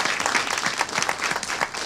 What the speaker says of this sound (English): Let's give Danielle a hand of applause.